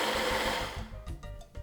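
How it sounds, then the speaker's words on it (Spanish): A kitchen blender whirs through garlic, habanero chile, avocado, cream, lime juice, cilantro and milk, a steady loud buzzing that changes pitch and pulses unevenly toward the end, with no talking. "Vamos a licuar"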